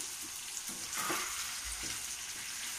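A spice mixture is tipped into hot tempering oil on a low flame and sizzles, a steady close crackling fry with brief stirring scrapes and no voices.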